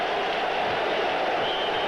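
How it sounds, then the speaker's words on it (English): Crowd at a football stadium during the 1986 New York Jets at Buffalo Bills game, cheering and clapping right after a kickoff as a dense, steady roar, loud and unbroken for under two seconds. "this crowd is right back into it"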